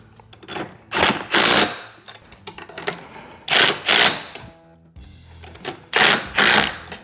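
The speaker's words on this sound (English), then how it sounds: "Now what we want to do is thoroughly tighten this nut to the bolt." A ratchet wrench tightens a nut onto a bolt while an Epic FX utility basket is installed, giving close, loud bursts of rapid clicking in repeated strokes with short gaps between them.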